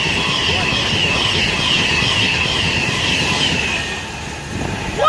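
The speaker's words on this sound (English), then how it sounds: "And passing through Pendolino." A Class 390 Pendolino train passes through Nuneaton station on the West Coast Main Line, producing a steady rushing roar with a high whine, fading somewhat toward the end before a brief rise, with no talking.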